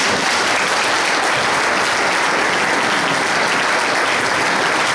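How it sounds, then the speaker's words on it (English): Sustained audience applause fills the room at a League of Women Voters sheriff forum, a dense, steady wash of clapping hands that carries loudly from start to finish without a break. "let's have a big round of applause for both of them"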